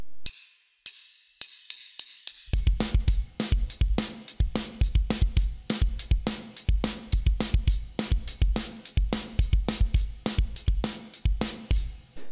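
A drum kit plays a song's groove. A few sparse clicks lead into a steady, close beat with quarter-note hi-hats and snare hits on 2 and 4, and no talking.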